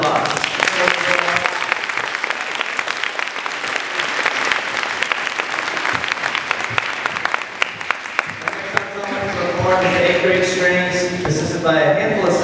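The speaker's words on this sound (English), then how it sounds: "Let's give them one more round of applause." Audience applause at a school pops concert for a 7th grade string ensemble, steady dense clapping filling the hall for about nine seconds before musical tones and instruments begin to emerge underneath.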